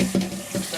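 Cold tap water runs and splashes over cooked lasagna noodles in a pan: a brief, steady, close rush of water with no voices.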